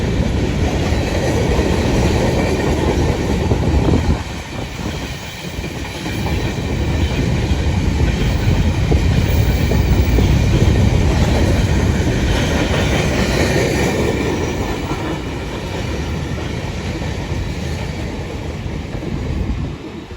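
Freight train led by a GM diesel locomotive rolls through Jungshahi railway station, a continuous loud rumble of wagons with rhythmic clatter, dipping briefly before building again, with no talking.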